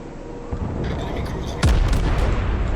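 Boat-mounted guns firing in a naval video game: a low rumbling backdrop, then one sharp, heavy boom with a resonant low tail that lingers beneath continuing noise.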